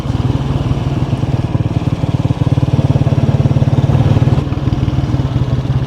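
A motorcycle engine thrums steadily and loudly at close range, a rapid even putter that holds throughout as the bike rides along a road in DHA Karachi.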